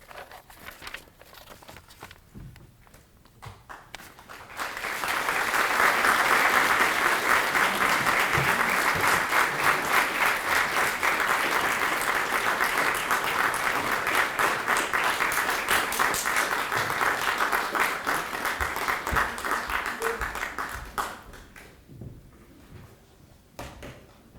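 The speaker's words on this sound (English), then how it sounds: "Round of applause for our performers." Audience applause for performers at a literary award event swells after a few quiet seconds, holds loud and dense for about fifteen seconds, then fades away.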